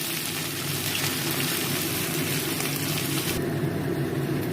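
Cumin, bay leaf and ginger paste sizzle in hot mustard oil in a wok, a loud, continuous frying hiss that holds steady throughout.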